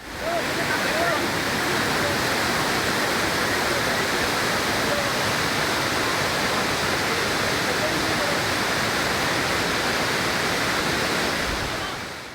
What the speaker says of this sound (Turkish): Dere taştı